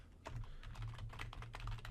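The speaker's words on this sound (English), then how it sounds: "I'm going to type" Rapid keystrokes on a computer keyboard while entering a network path into the Run box on a Windows Server 2019 machine, a quick uneven clatter of close taps over a low steady hum.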